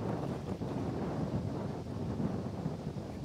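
Wind gusts outdoors at Guadalest, Spain, overlooking a green lagoon ringed by mountains, buffeting the microphone with a steady, rumbling roar that swells and dips throughout.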